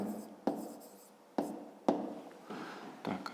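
A pen writes on paper during a fifth-grade maths exercise, producing close, quiet scratching strokes with a few sharp taps marking new marks, alone without talk.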